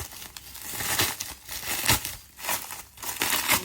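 Bubble wrap around packaged makeup and skincare products being crinkled and pulled apart, a continuous rustle with swelling bursts of crumpling and tearing, close up.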